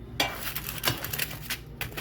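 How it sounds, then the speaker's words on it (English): Metal tongs tap and scrape inside a hot air fryer basket as slices of Texas toast are turned over, a quick series of close, light clicks and clatters in a quiet kitchen. "I'm gonna turn these over with my tongs"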